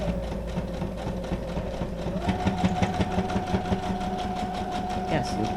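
A sewing machine straight-stitches through thick collage papers for a junk journal, a steady rapid mechanical chatter with knocking beats running throughout at close range, with some talk over it.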